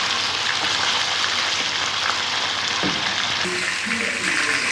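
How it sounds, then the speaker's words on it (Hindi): Chicken drumsticks fry in hot oil with a steady, dense sizzle and crackle that holds close and loud the whole time, with a few faint clinks near the end. "इनको फ्राई करूँगी, गोल्डन फ्राई"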